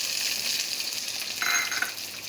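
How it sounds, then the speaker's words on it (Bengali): Chopped onion added to hot oil in a pan, giving a bright, continuous sizzle close by with a brief louder burst partway through. "এখন দিয়ে দেব পেঁয়াজ কুচি।"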